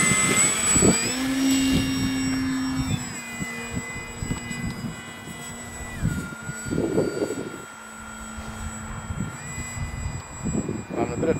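Radio-controlled Super Cub model plane taking off in a crosswind, its small electric motor whining steadily with pitch shifts as throttle changes, fairly close, with wind buffeting and brief bursts of noise alongside.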